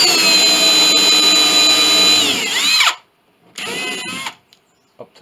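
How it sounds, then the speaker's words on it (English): A power drill bores out holes in an 1867 Chickering piano during restoration: a loud, close, high-pitched whine runs steadily, winds down, then spins up again in a shorter burst before stopping, with a few faint clicks after. "Drill these out."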